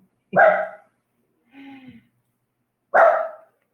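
House dogs bark close by in a quiet room. Two sharp barks come a few seconds apart, with a softer whine between them.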